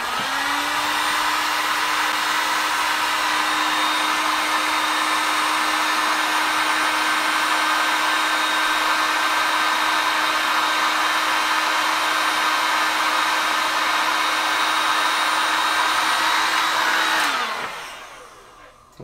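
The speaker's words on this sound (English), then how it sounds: "Now use a heat sink gun or a heat gun." A heat gun on heat shrink tubing blows with a loud, steady whooshing hum for about seventeen seconds, then winds down and cuts off near the end.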